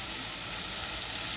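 Cumin and coriander seeds sizzle in hot oil for a lentil dish, a steady, dense hiss that stays close and even throughout, with no talking.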